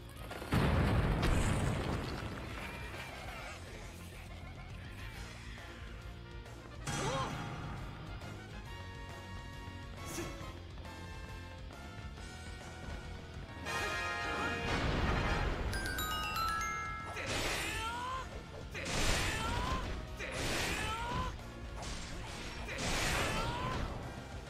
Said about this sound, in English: Press that to throw bombs.